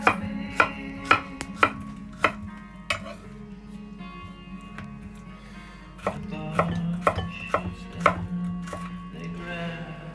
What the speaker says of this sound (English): quarter roughly of a pineapple, cut into strips